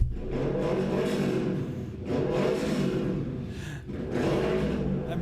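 A car engine revving outside, heard from indoors: three surging bursts of revs rise and fall in quick succession, moderately loud and alone.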